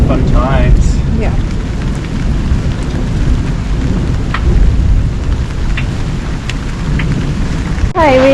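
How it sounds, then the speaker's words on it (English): Heavy rain pours down around a caravan park in a loud, continuous wash of drops on surfaces, with voices speaking briefly over the downpour. "the rain's just slightly heavy right now"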